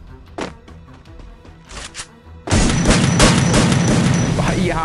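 Gunfire from the Free Fire battle royale game: a few scattered shots and clicks, then a loud, sustained burst of rapid firing and booms close up.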